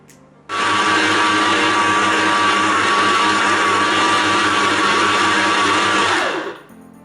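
A stand mixer kneads focaccia dough in a loud, steady motor whir that starts abruptly, holds an even drone for about six seconds, then winds down as the machine stops.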